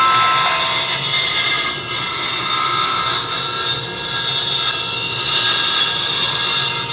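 A table saw cuts wood on a ZeroPlay sled with a steady, loud high-pitched whine and hiss, continuous and close with no voices.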